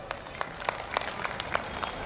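Scattered, evenly paced handclaps from an audience at a Savitribai Phule commemoration ceremony in Kalamboli, fairly faint and steady over a low crowd murmur.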